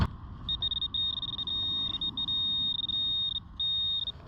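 A metal detector gives a steady, high-pitched tone while sweeping over a buried target in a park, sounding a near-continuous beep with a few brief dropouts.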